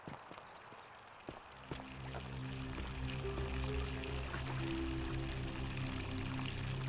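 River water flowing in the video game The Forgotten City, a steady pouring rush that swells in after a couple of soft thuds and continues evenly at moderate level, with no talking.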